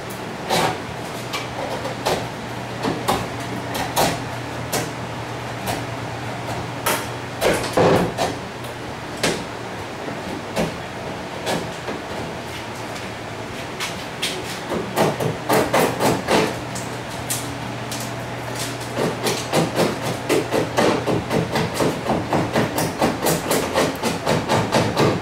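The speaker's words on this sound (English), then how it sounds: "Just use a nice, sharp wood chisel." Sharp wood chisel cutting and tapping on an F-14D Tomcat scale model, a loud irregular run of close knocks and scraping strikes with a steady low hum beneath, busier toward the end.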